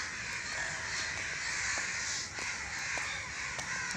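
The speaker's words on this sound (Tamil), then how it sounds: "காக்கா இருக்குது கத்திக்கிட்டே தான் இருக்கும்" Crows caw again and again in the distance over farm fields in the early morning, scattered sharp calls over a steady outdoor hiss, with no one speaking.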